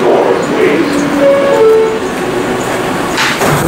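A New York subway J train heard from inside, with a loud steady rumble and rattle of the cars, brief squealing tones from the wheels or motors, and occasional clanks.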